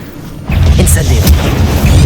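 Incendio fire spell cast in Hogwarts Legacy, a deep booming burst that erupts abruptly and then sustains as a loud, rumbling roar with scattered crackles for the rest of the clip.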